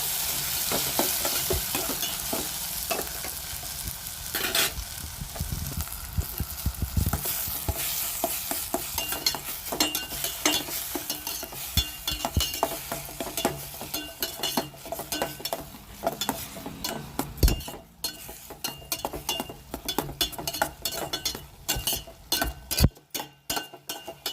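Sautéed onions and spinach stirred and fried in a pan make a continuous sizzle, with frequent scraping and clinking of a utensil against the metal, close up and without talk.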